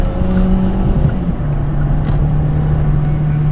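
A Kia K3 with a CVT drops through its steps under hard throttle and then accelerates, a loud, sustained engine drone that shifts pitch as it climbs, heard from inside the car.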